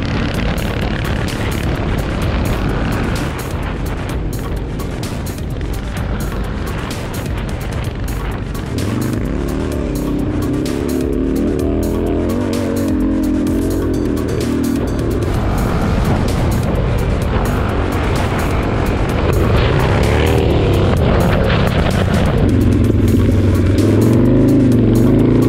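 Motorcycles, including a flat tracker race bike, ridden outdoors, their engines droning and revving continuously at close range, rising and falling with throttle changes and swelling louder toward the end.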